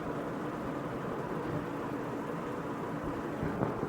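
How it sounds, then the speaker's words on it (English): Air conditioners running in a barracks room give a steady, broadband hum and hiss that stays constant and fairly quiet throughout, with no voices. "that's the air conditioners in the room"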